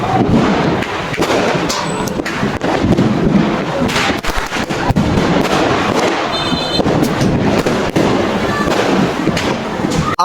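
Diwali firecracker bombs bursting loudly and continuously, a dense barrage of close, crackling blasts and thuds with almost no gaps, a few faint voices buried underneath.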